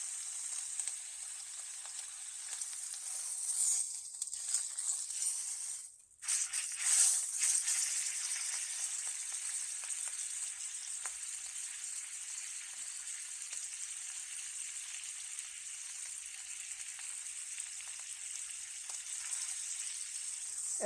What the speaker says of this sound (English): I'm going to finish searing off the edges.